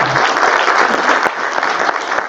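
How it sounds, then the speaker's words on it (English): Graduates of IOIBT 22 and their audience break into loud, close applause at a graduation ceremony, with dense clapping and a few sharp individual claps standing out. "Give yourselves a round of applause."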